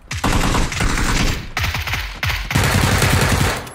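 PUBG gunfire: rapid bursts of automatic fire, loud and close, repeating with short breaks between volleys and no talking.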